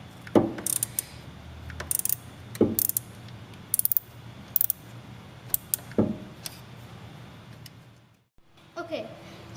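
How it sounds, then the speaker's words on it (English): Small screw on the positive terminal of a 2007 Chevrolet Avalanche battery being unscrewed, giving repeated short ratcheting clicks in bursts, close by and fairly quiet, with low handling noise between. "start unscrewing this screw right here"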